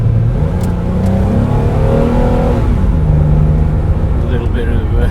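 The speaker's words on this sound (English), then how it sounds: "A little bit of the engine there." A car engine drones steadily while driving through town streets, close and constant with a low rumble and mild rises in pitch, under faint background noise.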